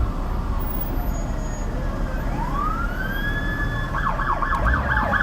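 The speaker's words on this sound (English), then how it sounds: "It kind of sounds like an ambulance up here." An ambulance siren wails in the distance over steady road rumble on a Los Angeles street at night, rising in pitch and then switching to a rapid yelping pattern near the end.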